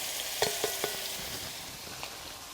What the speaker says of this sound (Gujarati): હવે નાખશું આપણે લીલા મરચાંની કટકી।